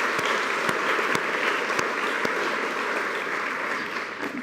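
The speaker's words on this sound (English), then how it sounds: "So, one more round of applause." A round of applause at a women's awards event in Bloomington, dense steady clapping from a large indoor audience that holds level and then tapers slightly, with no talk over it.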